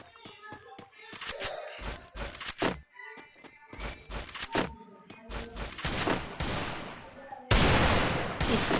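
Gunfire from an emote shot in a headshot-only video game match, with rapid bursts of sharp shots and thuds layered over game effects, loud and dense, with a sustained burst at the end.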